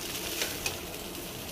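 Spicy potato poha fries in a pan with a steady, soft sizzle, broken by two brief scrapes or clinks of a spoon stirring against the pan.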